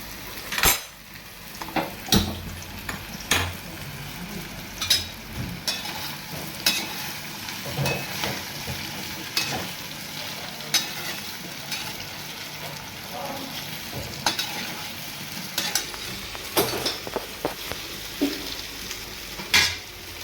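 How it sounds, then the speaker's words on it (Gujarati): Raw banana pieces frying in oil in a pan, with a steady sizzle throughout and repeated clinks and scrapes of a utensil stirring against the metal, close and fairly loud. "એમાં આને ફ્રાય કરીશું."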